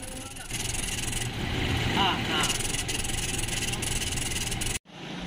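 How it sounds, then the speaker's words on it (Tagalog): A running Toyota Hilux with a 1GD engine and a squeaking fault, its steady engine drone carrying a wavering squeal up close before cutting out briefly near the end. "So maingay yung yung squeaking noise na kapag pinapaandar"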